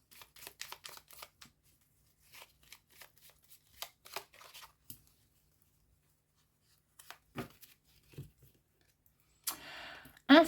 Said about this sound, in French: On prend une petite carte avec l'oracle de la forêt